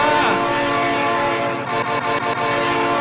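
A train in the BeamNG.drive game sounds its horn on approach as a supercar faces it on the track: a sustained, loud, chord-like blast holding throughout, with rumbling rail noise underneath.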